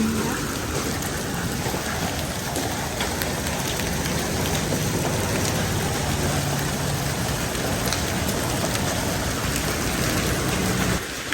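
A heavy hailstorm hammers down in a continuous, roaring wash of impacts, loud and unbroken from start to finish.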